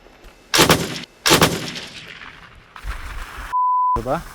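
Two sharp, loud blasts in quick succession ring out outdoors from a grenade launcher mounted on a ground drone, followed by a faint voice and a brief electronic beep.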